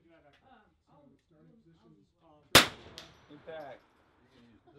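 A single sharp metallic clang rings out as a bullet strikes a steel target at an NRL22 rifle match, followed by a fainter second ping. Voices talk before and after the impacts.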